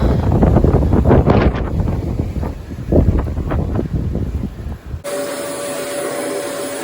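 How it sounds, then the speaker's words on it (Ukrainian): Strong storm gusts with rain roar and buffet against the microphone in heavy, uneven bursts, then the sound cuts abruptly to a steadier, thinner background hiss, in France. "піднявся, прям дуже-дуже буревій"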